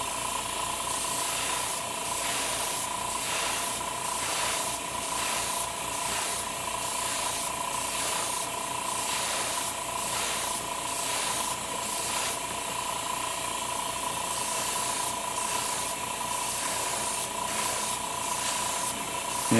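Top coat sprays onto a Gundam model kit in steady bursts of airbrush hiss, separated by brief pauses. The spray is close, even and moderately loud, with no talking.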